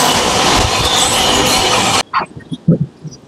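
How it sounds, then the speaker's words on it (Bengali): The Kanchanjunga Express from Sealdah to Silchar pulls into Kishanganj station in Bihar with a loud, continuous rolling rumble that cuts off abruptly, followed by scattered knocks and faint station noise. "ট্রেন প্রবেশ করছে"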